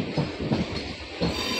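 Ratnachal Express train pulling out of Vijayawada railway station, heard from on board as a rolling rumble with a rhythmic clickety-clack of wheels over rail joints, no talking.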